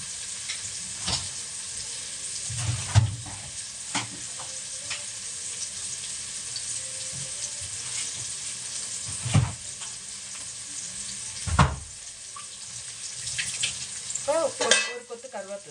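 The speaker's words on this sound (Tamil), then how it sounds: "வெங்காயம் வதக்கும்போது கொஞ்சோண்டு உப்பு போட்டுக்கலாம்" Onions with salt sautéing in a pan, a steady close sizzle with occasional stirring scrapes and bumps, continuous throughout and without talk.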